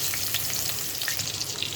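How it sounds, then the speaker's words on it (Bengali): Chopped onions deep frying in hot oil in a wok, a steady dense sizzle with crackling pops throughout, close and fairly loud, no voices. "এবার পেঁয়াজগুলোকে ডিপ ফ্রাই করবো।"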